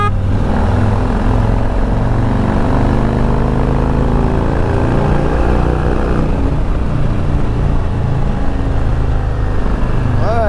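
A car engine with a Stage 2 performance kit drones steadily at high load in a fifth-gear roll-on from 55, revving under sustained acceleration with a constant loud hum and rising pitch.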